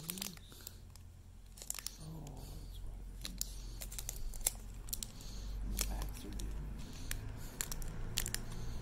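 Scissors snip and crinkle through the foil wrapper of a Pokémon Battle Styles booster pack, giving quiet, sharp clicks and rustles at close range, with faint background hum.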